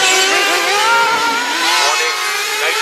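Nitro dirt late model race cars roar around a dirt oval during a 100-lap feature, a steady, loud engine drone with rising and falling revs as cars pass.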